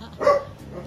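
A dog gives a single short bark at moderate distance outdoors near a house, a brief isolated yelp amid quiet background.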